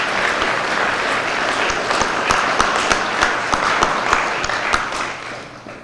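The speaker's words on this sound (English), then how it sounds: "Let's give her a round of applause." Sustained applause from a crowd at a university business model competition, dense steady clapping for several seconds that thins out and fades toward the end.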